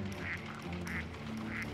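Wild birds in a snowy winter landscape call warnings to one another while a snowy owl hunts: three evenly spaced, honking alarm calls stand out over a steady, dense background, with no talk.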